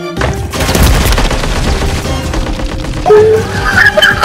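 Dense burst of video game gunfire from a strange, cursed weapon, loud and continuous with booming impacts, a rapid fusillade rolling through the whole moment with no voices.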